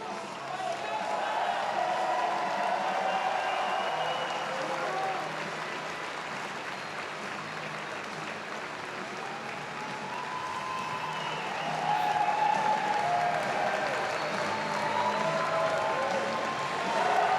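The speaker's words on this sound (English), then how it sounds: "Give that man a round of applause." Sustained crowd applause and clapping at a strongman competition, steady and broad, swelling louder near the end.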